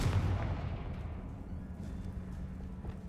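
A Confringo spell explosion in Hogwarts Legacy bursts loudly at the start, then its deep rumble fades away slowly into a quieter tail.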